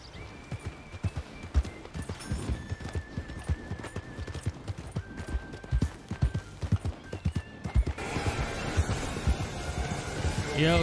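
Hooves clip-clop in a horse role-play video game, a quick irregular patter of steps at close range, joined near the end by a louder whinny and rushing background noise.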